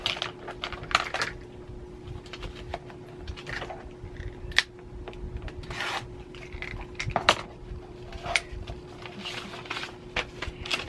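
Fabric folded and trimmed against an add-a-quarter ruler while quilt piecing: scattered soft scrapes and light ticking taps, close and quiet, with a faint steady hum behind.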